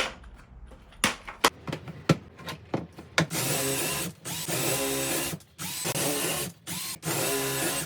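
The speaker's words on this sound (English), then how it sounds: "to the cross beams, I'm going to be doing some pocket holes" Power drill boring pocket holes in wood for workbench cross beams, first a string of short sharp bursts, then sustained whirring runs broken by brief pauses, close and loud.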